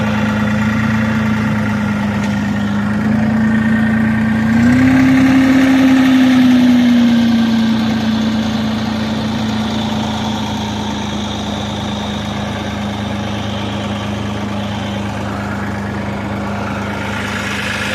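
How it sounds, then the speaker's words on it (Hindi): A tractor engine idles steadily and loudly nearby, a constant low rumble that briefly rises in pitch then settles back. "लो जी ट्रैक्टर भी चला लिया"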